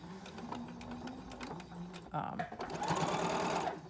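Sewing machine stitching fleece in bursts, a fast mechanical whir that speeds up toward the end, with quiet background noise and no talk.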